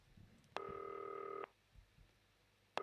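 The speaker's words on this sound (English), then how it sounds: "The telephone is ringing again." A telephone rings in the video game Not For Broadcast: one loud, steady electronic ring of about a second, then a short gap, then the start of another ring, with faint background sounds.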